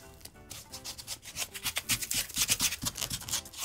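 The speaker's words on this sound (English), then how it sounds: "make sure you get it all mixed in with the sand so that all the sand gets shaving creamed" Shaving cream being worked by hand into sand in a box, giving soft, close, continuous rubbing and squishing scrapes that grow a little louder toward the end, with no talk.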